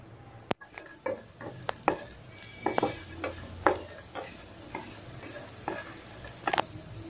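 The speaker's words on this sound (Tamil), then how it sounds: "அதில் முந்திரி, திராட்சை சேர்த்துட்டு வறுத்துக்கலாம்." Cashews and raisins roasting in hot ghee in a pan, with a soft steady sizzle and scattered clinks and scrapes of a spoon stirring against the metal pan, close and moderately quiet.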